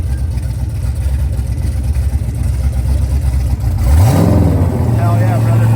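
A car engine idles with a choppy, lumpy rumble, then revs sharply and accelerates with a loud rising whine that sweeps up and holds, close by and loud.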